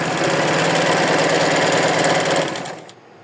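Sewing machine running a long, wide stitch along a doll's skirt, a steady loud mechanical whir that runs on without pause before slowing and stopping near the end.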